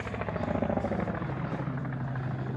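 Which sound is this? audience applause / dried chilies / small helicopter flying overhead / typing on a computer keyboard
small helicopter flying overhead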